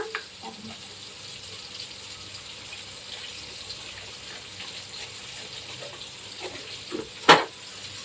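Masala for chicken curry sautéing in a pan, a faint, continuous sizzle with soft stirring scrapes, ending in a brief louder clatter near the end.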